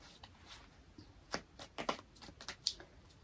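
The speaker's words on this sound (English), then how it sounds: "These cards are weird to shuffle." Soft papery riffling of tarot cards being shuffled in a few short bursts, close and fairly quiet, with no talking.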